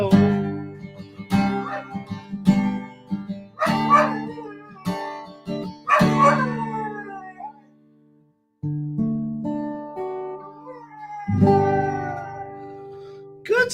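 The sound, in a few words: dog howling along, 'singing'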